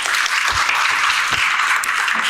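An audience at a high school admissions information session applauding together, a dense steady wash of clapping that carries on without a break.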